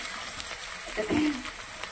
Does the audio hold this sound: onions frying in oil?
yes